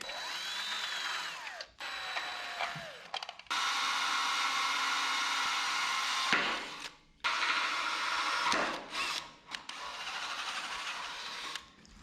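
A power drill whines in several sustained bursts, stopping and restarting with brief pauses between runs, up close and fairly loud.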